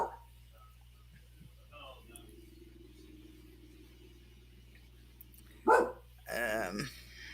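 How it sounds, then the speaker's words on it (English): A dog on a front porch gives a few short barks partway through, fairly close but brief, with a quiet background and faint low hum beforehand. "She's out on the front porch barking at something."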